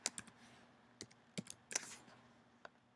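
Computer keyboard typing: a sparse, irregular run of light key clicks, some in quick pairs, heard close and faint in a quiet room.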